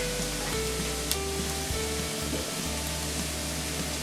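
Turmeric, red chilli powder and garam masala fry with onion in a pan over a gas flame, giving a steady close sizzle and hiss with faint stirring and a low hum underneath, no voices.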